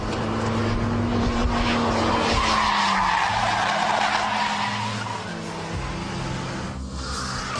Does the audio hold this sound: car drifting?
yes